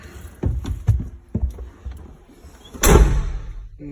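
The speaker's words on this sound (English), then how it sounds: "And we'll close the door." The cab door of a Bobcat T770 skid steer clicks a few times as it swings, then shuts with one loud, close slam near the end.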